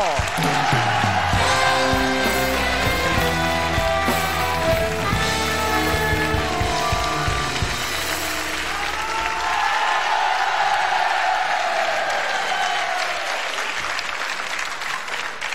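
Audience applause and cheering for a singer on a comedy television show, dense sustained clapping with whoops over loud music that drops away partway through.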